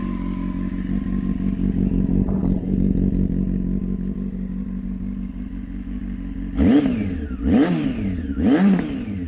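A Honda CB600 Hornet motorcycle engine idles with a steady low rumble close by, then three rising revs near the end; no talking is heard.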